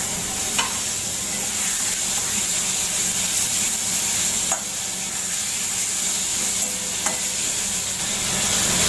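Chopped tomato sizzles with fried potatoes in a pan, a constant frying hiss broken by a few sharp stirring knocks of a spoon against the pan.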